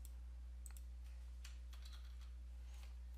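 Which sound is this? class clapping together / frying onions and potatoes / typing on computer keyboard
typing on computer keyboard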